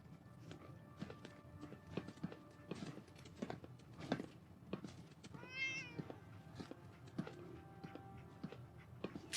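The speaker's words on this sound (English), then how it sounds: "No, that's a cat." A cat meows once amid a string of soft footstep-like taps and clicks inside an explored building in a Fallout game, the meow mid-level and brief against a busy, low-level background.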